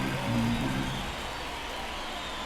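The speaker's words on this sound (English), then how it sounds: "Why is every time Almanzar pitches, it's pouring rain, man?" Steady rain pours down in a baseball video game, an even hiss of falling water holding at constant level throughout, with a faint low hum underneath and no voices.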